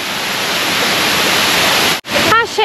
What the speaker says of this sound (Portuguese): Achei a cachoeira bonita.